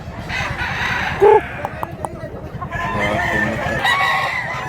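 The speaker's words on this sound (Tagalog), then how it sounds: "Napakagandang manok mga idol." A big three-year-old gamefowl rooster for sale in Mantalungon, Cebu, gives a short cluck and then a drawn-out crow nearby, with more fowl calling over a busy outdoor background.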